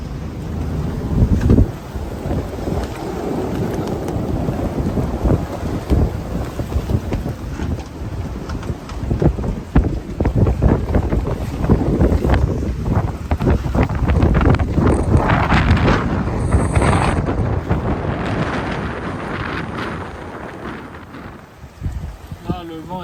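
Strong gusts of more than 33 knots rush over a sailboat at sea between Turkey and Lesbos, a loud, continuous roar with buffeting on the microphone that lasts throughout, mixed with rushing water and boat noise.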